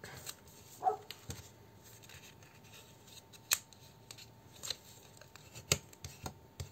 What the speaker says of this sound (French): le papier action, il craque